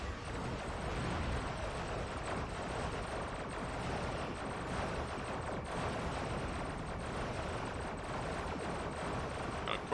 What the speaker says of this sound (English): you'll notice that this is firing consistently. As long as I keep it in range, it'll fire.